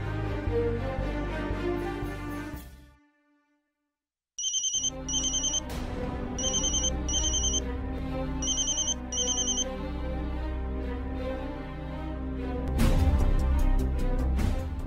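A phone ringtone in a Hindi TV drama scene sounds in short repeated electronic bursts over continuous background music, after a brief silence, loud and close.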